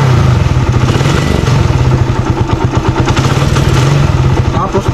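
A motorcycle engine idling roughly and misfiring, loud and close with an uneven, stuttering beat throughout.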